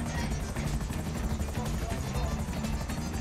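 A helicopter in the video game GTA V gives off a constant, close rotor drone that fills the whole stretch at a steady level, with faint game sounds mixed in.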